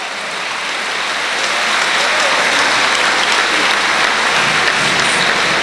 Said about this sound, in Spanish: Un aplauso al grupo